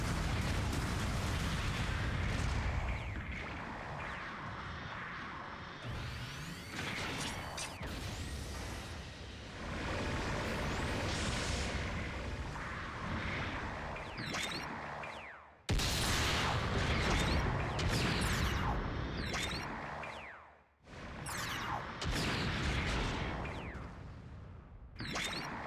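Supporting artillery fire in a Gundam mobile suit battle game lands as repeated heavy explosive blasts and rumbling booms, with whooshing bursts in between and no voices.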